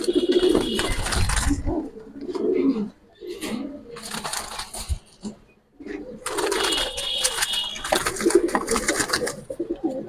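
Giribaz pigeons coo in repeated throaty bursts, close and fairly loud, with short pauses between phrases and a faint voice now and then.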